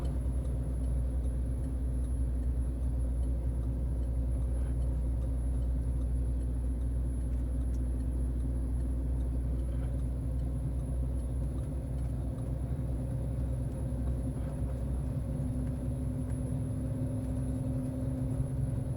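A truck hauling 65 tons of sand runs on light throttle toward a port, a steady low diesel rumble with cabin hum, continuous and close, with no speech.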